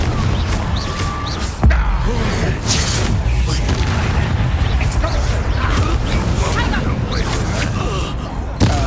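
Fiery Confringo blast spell cast in a wizard duel in Hogwarts Legacy, a sharp boom near the two-second mark inside a dense, continuous roar of battle effects and rumble, with a character's voice calling out over it.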